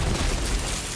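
A bomb goes off in the video game Borderlands 3: a dense, loud, rumbling blast that fills the whole moment with deep, sustained roar.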